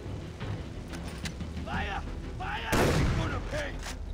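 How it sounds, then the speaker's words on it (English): Enemy pirates fire guns in the video game Far Cry 3, with scattered shots and a louder burst crackling amid game effects while someone talks over the action. "Stop shooting me with your bullet guns!"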